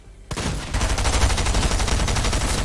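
A heavy shotgun in a video game fires with a sharp blast, followed by dense rapid reports and clatter in a loud, continuous burst of gunfire.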